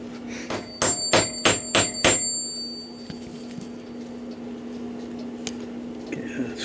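Six quick metallic hammer taps drive a bushing into a Hermle 1161 853 clock movement plate, close and ringing, followed by quieter handling noise and a faint hum.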